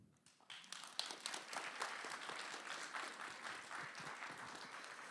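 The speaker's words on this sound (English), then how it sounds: "I want to give Dr. Adrian Fisher another round of applause." A crowd applauding steadily, many hands clapping in a dense, sustained burst that starts quickly and holds at an even level throughout.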